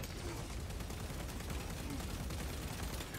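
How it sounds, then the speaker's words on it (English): Continuous rapid gunfire pours into a bulwark shield in the video game Space Marine 2, a dense, unbroken rattle of shots at a steady level from start to finish. "I know I'm mag dumping into a bulwark shield"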